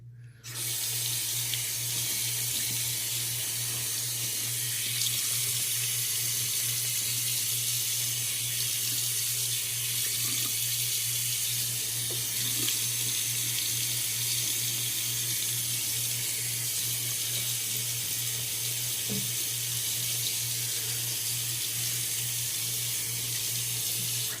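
Tap water runs steadily into a sink during a wet shave with an Astra 901 razor, a constant close hiss and splash that starts abruptly and continues unbroken, with a low hum beneath.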